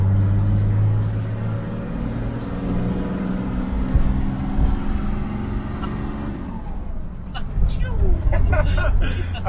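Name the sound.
Toyota HJ75 Troopy 2H turbo diesel engine accelerating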